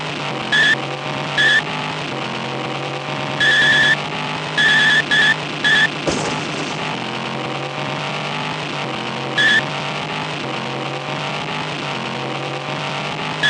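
Race cars in a speedway video game roar steadily while tires squeal and skid in several short, sharp bursts over a loud, continuous engine drone.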